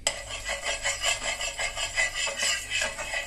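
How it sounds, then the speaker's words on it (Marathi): Oil being spread across a tawa for green moong and rice dosa, a close, rhythmic scraping and rubbing of a utensil against the metal pan repeating about ten times in quick strokes. "त्याच्यावर थोडंसं तेल पसरून घेऊया."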